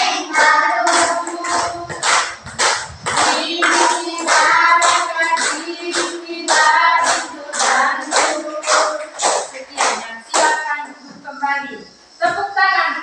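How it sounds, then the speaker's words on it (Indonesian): Many hands clap together in a quick, steady rhythm at a dangdut performance while voices sing and call out over the beat. "Tepuk tangan dulu."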